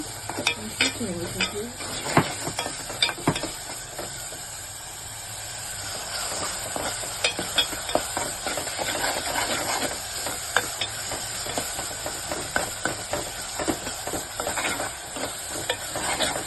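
Food sizzles and frying in a pan on a home kitchen stove, with frequent scraping and stirring strokes of a spoon against the pan, steady and close, no talking.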